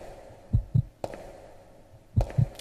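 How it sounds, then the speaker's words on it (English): Heartbeat over a door section in the video game Resident Evil Code: Veronica X: two paired low thumps, lub-dub, repeating once with a steady drone underneath and no talk. "So that's a new feature they've added into this game, is like the heartbeat over certain door sections."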